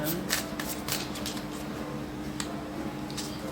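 Tarot cards being shuffled and drawn during a reading, giving a steady soft riffling and flicking with several brief papery snaps, close and fairly quiet, with no speech over it.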